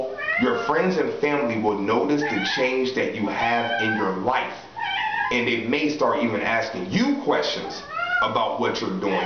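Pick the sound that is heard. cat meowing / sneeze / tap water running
cat meowing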